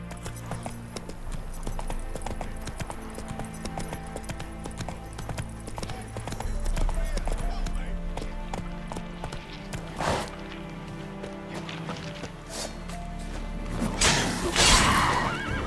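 Roach the horse gallops in The Witcher 3: Wild Hunt, a steady rapid clip-clop of hooves over game music, building louder toward the end with a brief crash-like burst.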